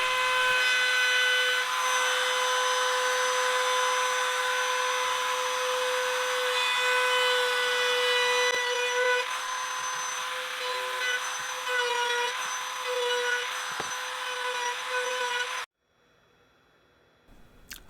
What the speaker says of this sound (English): I use my trim router to put a chamfer on the bottom edge of the tabletop.